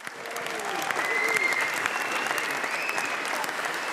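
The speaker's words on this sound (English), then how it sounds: "Christian, Checo, Max, another big round of applause to them." Sustained applause from an event crowd for the Oracle Red Bull Racing Formula 1 team at a team launch, steady and dense throughout, with whistles and cheering voices rising above the clapping.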